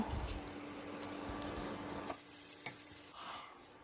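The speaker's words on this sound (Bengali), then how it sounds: "মাছ ছাকা তেলটাই আমি শুকনো লঙ্কা দিলাম" Dried red chillies sizzle in leftover fish-frying oil, a faint crackling fry with light stirring clicks that quietens partway through.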